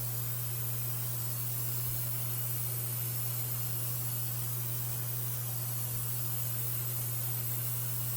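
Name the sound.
airbrush spraying Kandy black automotive paint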